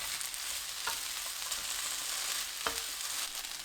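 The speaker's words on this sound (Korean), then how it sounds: "양배추, 청양고추 넣고 중불로 3분 볶아주세요." Potatoes, cabbage and green chili peppers stir-fry over medium heat in a pan, a soft, even sizzle with a couple of brief scraping stirs, fairly faint and close, with no voices.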